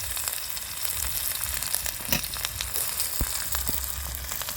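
Chopped onion dropped into hot oil with nigella seed tempering, dried red chillies and leaves, frying with a steady close sizzle and crackle, occasional stirring clicks, no voices.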